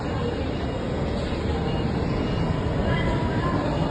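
Steady, loud rumble of a train in motion, a continuous low roar with rattling, without letup throughout.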